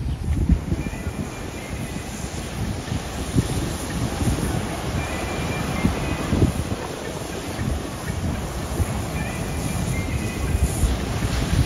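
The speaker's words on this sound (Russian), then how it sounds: "Смотрите, какие волны, друзья." Large sea waves, about three metres high, crash onto a beach at Alanya, Turkey, producing a continuous loud roar of surf mixed with heavy wind buffeting.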